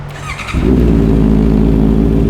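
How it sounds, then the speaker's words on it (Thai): A motorcycle with a short tail, a fender eliminator and an aftermarket exhaust idles briefly, then its engine revs up and holds at a loud, steady high pitch close by. "เดี๋ยวลองฟังเสียงเครื่องยนต์กันดูนะครับ"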